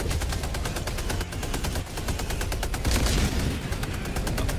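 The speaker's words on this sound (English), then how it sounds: "My sentry's shooting." A sentry turret in a co-op action video game fires rapid, evenly spaced bursts of automatic gunfire, loud and close, with a heavy, dense rhythm and no voices.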